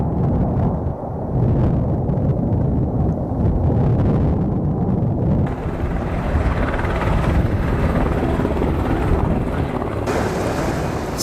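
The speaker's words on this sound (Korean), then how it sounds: "도보다리와 북한 초소를 아슬아슬하게 지나친 헬기가" A helicopter flies over Panmunjeom at the Korean DMZ, its loud, close rotor thump and turbine roar continuous throughout, mixed with gusty wind noise.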